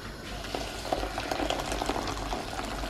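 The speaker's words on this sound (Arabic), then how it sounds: "هذايا دوك حطيت الماء يغلي" Water boils steadily in a cooking pot for barberousse pasta, a dense, even bubbling and hissing close by with no talk over it.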